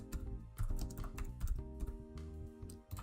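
Typing on a computer keyboard during a C++ game engine programming session, a run of quick key clicks mixed over a steady low background hum, moderately close and fairly quiet.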